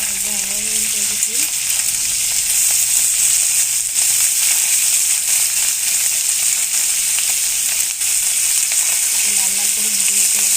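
Kurti fish fries in hot oil for a fish chutney, a loud, steady sizzle that runs the whole time, with occasional stirring scrapes and a faint hum at the start and end.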